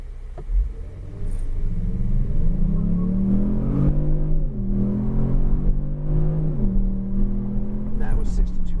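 A 2018 Kia Stinger twin-turbo accelerates hard toward 62 mph, its engine note a loud, steady rumble from inside the cabin that climbs in pitch through several rising sweeps with brief dips between gear changes.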